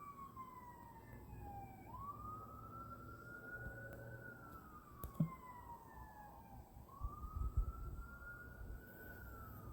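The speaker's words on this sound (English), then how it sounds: "you heard the sirens" An emergency vehicle siren wails in slow rising and falling sweeps, distant and faint over low traffic rumble.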